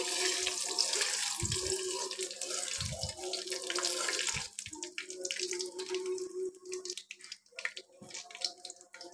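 Whole cumin and garam masala spices frying in oil for a duck meat bhuna, giving a steady broad sizzle and crackle with a few brief low pops, fading toward the end.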